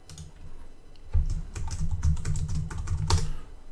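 Rapid typing on a computer keyboard during PLC programming work, a close, steady run of crisp key clicks with a few heavier keystrokes and no voices.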